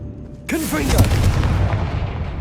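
A Confringo spell blast explodes in the Hogwarts Legacy video game: a sudden loud boom with a whooshing burst that rolls into a sustained rumbling roar and slowly fades.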